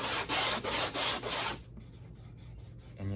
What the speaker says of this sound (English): We're going to just quick go over it with the sandpaper and a block.